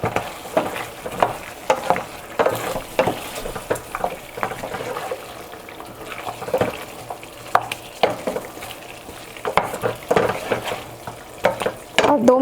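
Boiled mutton and softened tomatoes cooking in a karahi, with soft sizzling and frequent stirring scrapes and clinks of a utensil against the pan in an irregular rhythm, close and moderately loud.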